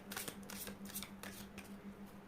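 Tarot cards are shuffled and picked by hand, a run of quick, close, papery riffling flicks in an uneven rhythm with a faint steady hum beneath and no speech.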